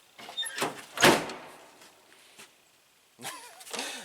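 A car door on a dirt-track race car project is handled, with a couple of loud thunks and rattles up close, followed by quieter movement and brief voices near the end.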